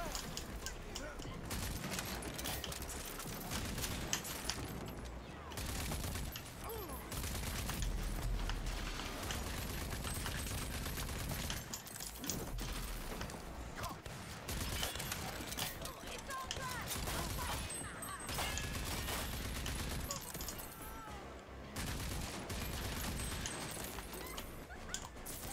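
Gunfire from the shooter video game Rage 2, dense bursts of weapon fire layered with game music and effects, steady and loud throughout.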